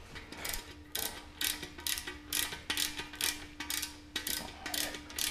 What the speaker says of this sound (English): Turn radio knobs.